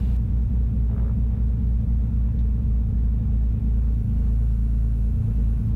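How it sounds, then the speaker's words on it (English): Twin Cessna engines held at full power during a pre-departure run-up, a loud, steady droning rumble that holds constant throughout with no talk. "Make sure to do a good full engine power run up before we depart."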